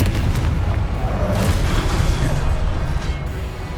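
In the video game Hogwarts Legacy, a Confringo fire spell bursts with a heavy, rumbling blast that roars continuously for several seconds, loud and close, without talk.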